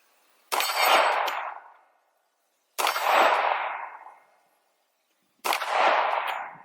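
Three loud, sharp pistol shots from a 10mm SIG P220 Legion at a shooting range, spaced about two and a half seconds apart, each with a bright crack and a ringing decay.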